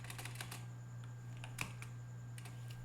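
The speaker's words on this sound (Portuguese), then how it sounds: "eu vou digitar o Open Pose aqui" Quiet, irregular keystrokes on a computer keyboard, a few light taps clustered at the start and more toward the end, over a steady low electrical hum.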